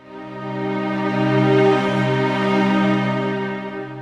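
Orchestral string section from the String Contours 2 library holding a sustained chord that swells up to a peak midway and then eases back down, one bar in and one bar out, smooth and continuous with no speech.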